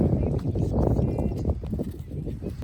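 Donkeys moving about at a campsite at night, hooves clip-clopping in an irregular rhythm under a dense low rumble of activity and background murmur.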